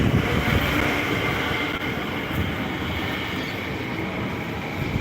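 Train rolling past on nearby tracks, a loud continuous rumble with rattling wheels and a faint squealing tone running steadily throughout.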